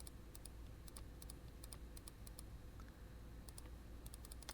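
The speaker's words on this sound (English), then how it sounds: "I'm constantly clicking and cloning some other value tone or some other bush" Computer mouse and keyboard clicks while cloning in image editing software, quick irregular clusters of faint, crisp clicks over a low steady room hum, no talk.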